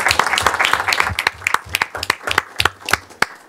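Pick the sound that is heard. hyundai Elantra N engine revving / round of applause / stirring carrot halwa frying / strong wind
round of applause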